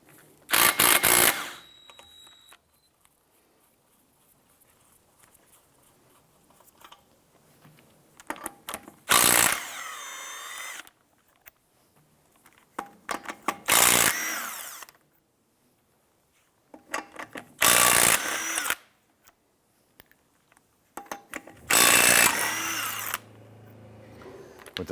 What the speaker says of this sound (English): Use your 19mm socket and impact gun to loosen and remove the lug nuts.